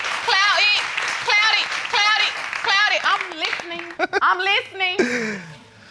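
Studio audience applause on a daytime paternity-test talk show, a steady wash of clapping running beneath loud, heated voices that dominate throughout.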